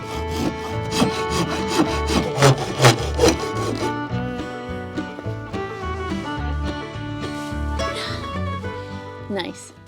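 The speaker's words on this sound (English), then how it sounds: "then I'll take my handy dandy saw and" A handheld saw cuts through a piece of wood marked with pencil near the 3-inch mark, giving rhythmic rasping strokes that run through the clip over steady tonal background music.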